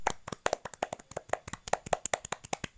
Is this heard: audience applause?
yes